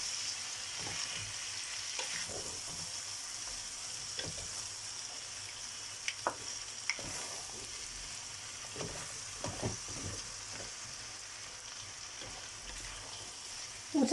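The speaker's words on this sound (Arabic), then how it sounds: "تنشحروا هنا الخضيره والحوت تنشحرهم" Vegetables and fish sautéing in a pan for a Spanish-style seafood paella: a steady, close hiss of frying with scattered scrapes and sharp clicks of a spoon stirring, no voices.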